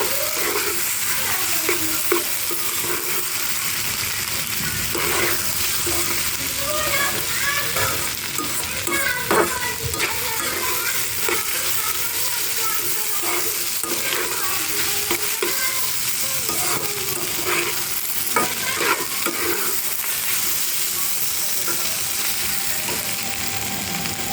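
Spices with turmeric powder fry in oil in a pan while being stirred, a continuous close sizzle broken by frequent scraping and tapping of a spatula.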